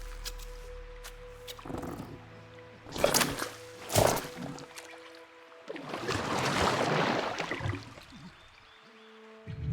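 Gurgling, sloshing water in The Last Campfire video game, a swelling wash of bubbling liquid that builds in the middle and fades, with a few sharp thumps beforehand and a low tone underneath.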